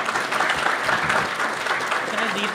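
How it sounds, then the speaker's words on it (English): A club audience at a weekly meeting claps for a presenter, dense sustained applause filling the room at moderate loudness for a few seconds. "let's have another round of applause for Tim Wheeler"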